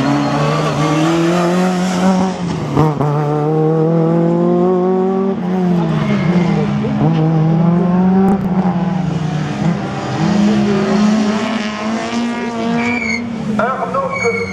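Rally car racing through a slalom course at Le Neubourg, loud engine revving up and down with rising and falling pitch through gear changes and turns, tires squealing at times, while a commentator talks over it.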